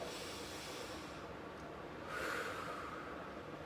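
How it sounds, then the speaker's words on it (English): One deep inhale, drawn in over a steady breathy hiss and swelling slightly toward the end, taken while stretching the arms and hands during a desk exercise. "Now take a nice deep breath while you're at it."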